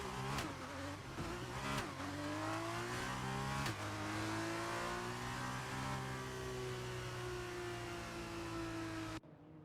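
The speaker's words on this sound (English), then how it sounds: "the cars take their positions on the grid" Formula 2 race cars sit on the starting grid in an F1 video game, engines droning and revving loudly and continuously with rising and falling pitch until an abrupt cut near the end.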